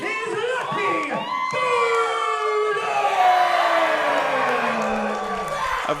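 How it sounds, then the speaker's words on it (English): A split arena crowd cheers and whoops for professional wrestler Lucky Bowden at a wrestling event, a loud, sustained roar of shouting voices with high yells rising over a steady din. "there are a portion of people that are cheering for him"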